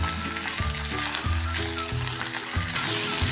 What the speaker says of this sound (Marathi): सतत आपण हलवून एकसारखं परतायचं आहे नाहीतर खाली गवारी चिकटते